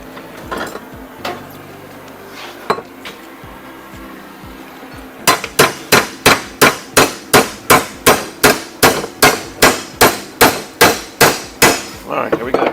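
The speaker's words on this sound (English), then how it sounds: "Give me the metal hammer." Metal hammer striking a steel part of a Polaris General XP 2-inch lift kit, a few scattered blows, then a long run of loud, evenly spaced ringing strikes close by.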